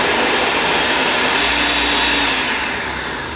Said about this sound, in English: We're gonna go ahead and blend this into a puree.